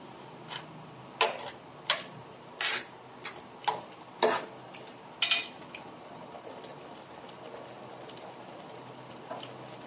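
Pancit canton noodles with green chili are stirred in a pan, a series of sharp spaced clinks and scrapes of a utensil against the metal over a faint steady background.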